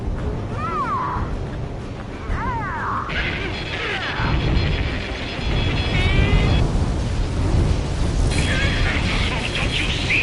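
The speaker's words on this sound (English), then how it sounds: "Confirming explosions. The rail cannon's been destroyed." Explosions from a destroyed rail cannon in the Ace Combat 7 combat flight game, rumbling booms and crashes over a dense, loud roar, with rising whistling tones and voices talking over the blasts throughout.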